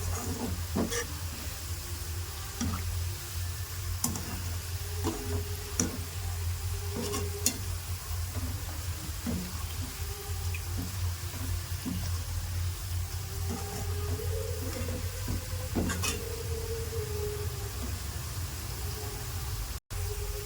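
Onions frying in a pan while being stirred and turned over with a spoon, a steady close sizzle with repeated scraping strokes throughout, no talking.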